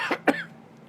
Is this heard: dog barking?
no